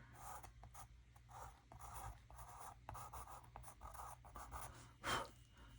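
Pen or brush scratching out a word on watercolour paper, very quiet, close-up strokes in short bursts with brief pauses between, ending in one slightly louder swipe.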